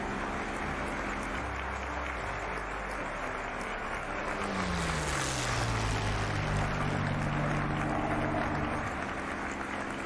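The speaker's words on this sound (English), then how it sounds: "I think that's the supercharger kicking in." A P-51 Mustang in a DCS World flight simulation drones steadily with propeller and engine noise, a tone sweeping downward midway as the supercharger kicks in, with a brief rush of higher noise.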